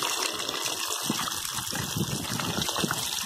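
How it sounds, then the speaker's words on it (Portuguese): Tap water runs steadily in a kitchen sink while vegetables are rinsed, a continuous close gushing splash with no pauses. "Torneirinha aqui, descendo a água corrente."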